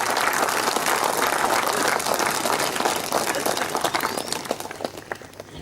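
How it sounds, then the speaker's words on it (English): An audience at a spiritual gathering breaks into sustained applause, a dense, loud patter of many hands that gradually thins out into scattered claps toward the end. "Let us give a big clap to yesterday's great music."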